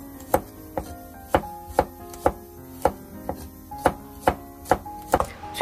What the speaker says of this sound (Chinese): 最后剁成蒜末。